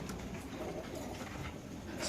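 Caged white racer pigeons coo softly and continuously at a pigeon sale, their murmuring blended into a dense, busy background hum.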